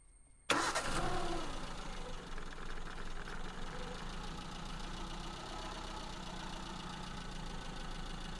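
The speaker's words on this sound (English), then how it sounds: "So let's start the car again." A Maruti Zen's carburetted engine, its idle speed just raised at the adjusting screw, cranks and catches, then settles into a steady, loud idle that runs without a break to the end, with no talking.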